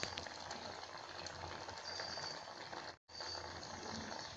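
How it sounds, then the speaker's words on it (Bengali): Maggi noodles in tomato soup boiling in a pot, giving a steady, continuous bubbling and hissing simmer that runs throughout, with one brief silent break near the end. "সেই জন্য আমি একটুখানি বেশি করে ফুটাচ্ছি"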